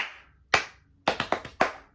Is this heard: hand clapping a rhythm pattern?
yes